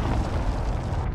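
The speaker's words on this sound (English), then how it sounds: "Enemy cruise missile incoming." A cruise missile explodes in the shooter game Call of Duty: Modern Warfare, a loud, dense, rumbling blast that fills the whole moment with deep boom and roar.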